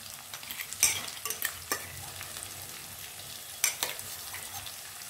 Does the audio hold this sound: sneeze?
no